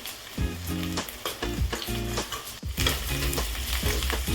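Vegetables with capsicum sizzle and fry in a pan for paneer chilli, with repeated scraping stir strokes in a steady rhythm, loud and close with no talking.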